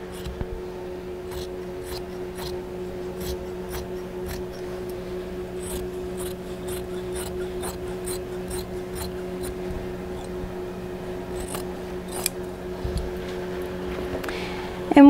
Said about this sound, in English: We're just cutting it all the way around.